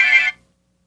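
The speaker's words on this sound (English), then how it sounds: "That's your ringtone, really?" A brief phone ringtone chirps once, a bright electronic tone lasting about a third of a second before cutting to silence.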